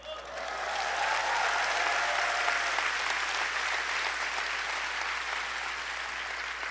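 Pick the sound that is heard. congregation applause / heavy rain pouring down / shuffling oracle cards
congregation applause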